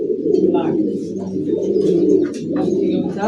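Continuous close cooing from a group of pigeons, some of them sitting on eggs in a Khulna loft, murmuring on without pause with little other sound.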